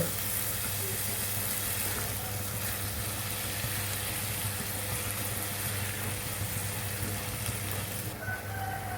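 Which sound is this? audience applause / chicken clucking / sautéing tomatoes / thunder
sautéing tomatoes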